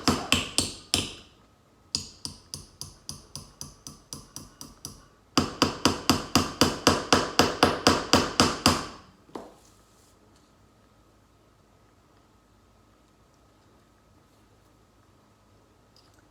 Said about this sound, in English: Okay, so we're still hammering.